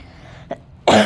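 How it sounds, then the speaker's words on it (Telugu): A single loud, harsh cough near the mic, preceded by a faint short throat sound, from a woman whose throat is sore and burning while sewing a blouse side joint. "కాఫ్ అనేది వస్తూనే ఉంది."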